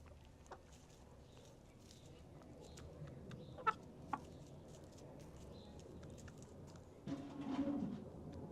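Backyard chickens cluck softly and intermittently at a distance over quiet outdoor ambience, with a few sharper clucks and a slightly busier flurry near the end.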